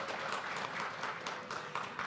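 An audience claps at a public debate between Yogyakarta mayoral and deputy mayoral candidates, a steady mass of hand claps filling the hall, fairly even in level, with no voices heard.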